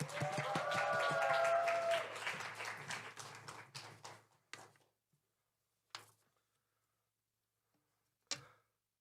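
A church congregation at a Sunday worship service applauds as the pastor comes out: a dense burst of crowd clapping for about four seconds that thins and fades to a few isolated claps.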